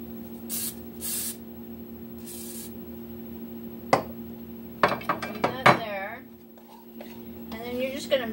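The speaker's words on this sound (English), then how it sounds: "I'm gonna spray my little dish." Several short hissing sprays of coconut oil onto a small baking dish, followed by clinks and knocks of kitchenware against the dish, with a voice talking in the background.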